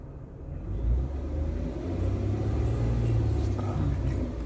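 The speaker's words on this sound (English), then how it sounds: "let me rev again" A Ford Escape engine revs up, a loud, close rumble that rises and holds at a higher pitch before easing slightly.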